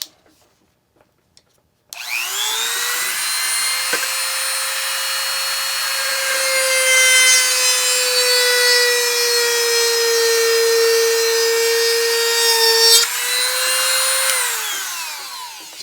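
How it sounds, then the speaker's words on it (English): A DEKO rotary tool spins up with a steady high whine, then drills into a piece of pine, holding a loud, constant buzzing tone for about ten seconds before winding down. "Let's drill into this piece of pine and see what happens."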